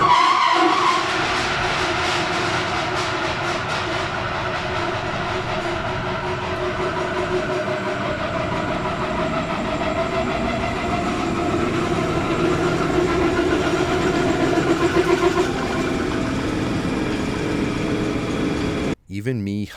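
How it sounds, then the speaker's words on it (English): Belt-driven power generator boiler in a boiler room going off, a loud sustained mechanical roar and hiss filling the space before cutting out abruptly near the end. "It's some kind of belt power generator boiler of some kind."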